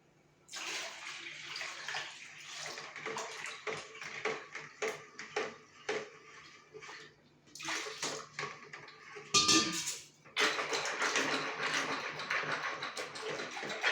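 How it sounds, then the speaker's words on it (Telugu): Water splashes and pours in irregular bursts, mixed with clinks of utensils against a pot, fairly close, with brief pauses between pours. "తర్వాత నీళ్ళు పోస్తున్నానండి నేను"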